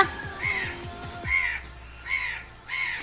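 Several crows caw in distinct harsh bursts spaced about a second apart while drinking water and eating biscuit, fairly close and clear, with a few low dull thumps early on.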